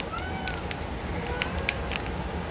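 A cat gives a couple of short, faint meows over a low background rumble, with a few light clicks nearby.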